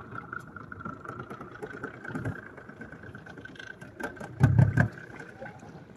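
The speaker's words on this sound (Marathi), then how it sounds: "मोटार आता आपण बंद करूया आवाज थोडा." A fishing boat motor runs steadily at night during mackerel fishing at sea off Malvan-Dandi, a low continuous drone under people talking, with a few louder knocks and thumps near the end.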